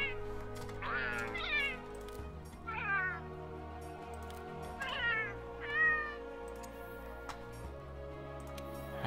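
A cat in the video game Monster Hunter: World meows several times at spaced intervals, short rising calls over a quiet, steady game background with faint ticking.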